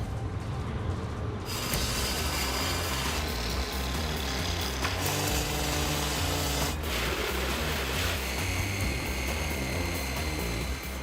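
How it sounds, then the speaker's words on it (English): Steady, continuous mechanical rasping and grinding of a hand saw cutting through a large wooden garage, loud and close, with a rhythmic low thumping underneath and no voices. "It takes 5 hours of hand-numbing sawing to slice the supersized garage free."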